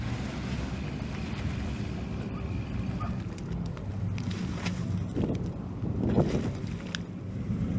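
A small unmanned drone boat moves across open water with wind buffeting and waves splashing, under a low continuous motor rumble.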